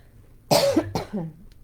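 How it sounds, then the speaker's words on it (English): Two close, harsh coughs in quick succession, the second trailing off into a throaty rasp, heard alone against a quiet background. "Well, I'm coughing."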